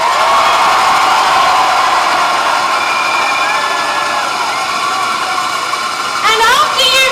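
A large rally crowd of nurses in Perth, Western Australia, protesting a no-strike order, roars and cheers loudly and continuously, with scattered shouts and whistle-like calls rising near the end.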